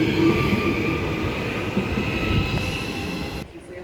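An out-of-service electric multiple-unit train runs through platform 2 at Clarkson station, a loud steady rumble of wheels and carriages with faint squeal, sustained throughout before cutting off abruptly near the end.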